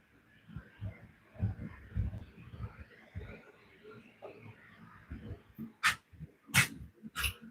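A dog lounging in a workshop gives a few short, fairly close barks or yips near the end, following a stretch of quiet low shuffling and handling noise.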